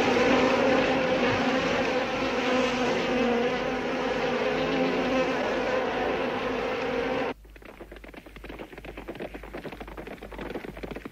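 Cartoon mosquitoes give off a loud, dense insect buzz that drones steadily for about seven seconds, then drops abruptly to a thinner, quieter buzzing.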